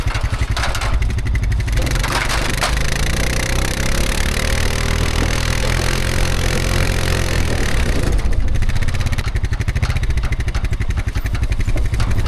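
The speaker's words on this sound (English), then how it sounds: "I just put my four-wheeler in posi track and I'm gonna try again." A four-wheeler ATV in posi track grinds along under steady load, its engine droning loud and close with wavering pitch through most of the stretch, briefly easing then surging again near the end.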